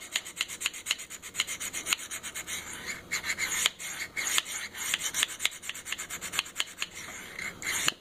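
A knife is sharpened on a Worksharp Field Sharpener, producing close, rhythmic rasping strokes, quick repeated scrapes of steel across the abrasive in an even back-and-forth pattern.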